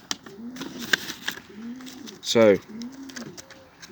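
Racing pigeons coo in soft repeated low phrases at a club loft after an 87-mile race from Exeter, with one louder close call partway through and someone briefly speaking.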